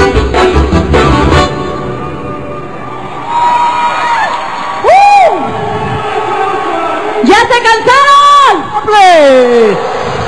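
A crowd at a telethon music show cheers and shouts for dancers, with loud whoops and rising yells in bursts over a fading musical ending, close and energetic.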